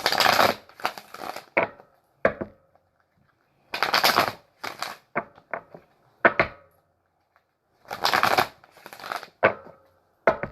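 Tarot cards are shuffled in loud, close riffling bursts, each lasting a second or less, with sharp clacks and silent pauses between the attempts.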